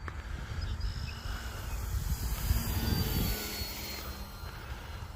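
RC F-15 Eagle model jet flying at about half throttle outdoors, a steady rushing turbine whine and roar at moderate distance, swelling slightly mid-pass with no voices.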